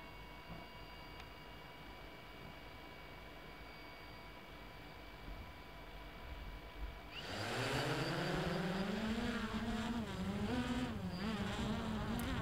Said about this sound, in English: we finally get the motors up to speed